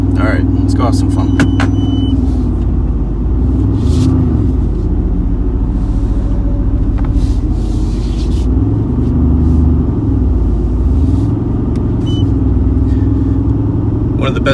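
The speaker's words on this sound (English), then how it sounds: "One of the best things I love about this car is that it's a V8 twin turbo" A Mercedes-AMG GT R with a twin-turbo V8 driving, its engine a loud, deep rumble that rises and falls with revs, heard close up under someone talking.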